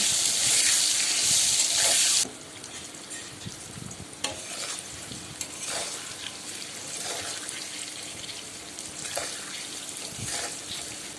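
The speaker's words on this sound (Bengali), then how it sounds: "যতটুকু তেল ছিল তাতে বেগুনগুলো দিয়ে অল্প পরিমাণ নুন ও হলুদ দিয়ে ভালোভাবে বেগুনগুলো ভেজে নেব" Eggplant pieces frying in a little oil with salt and turmeric, a bright steady sizzle that drops sharply after a couple of seconds into a quieter crackle, with occasional stirring scrapes and clinks close by.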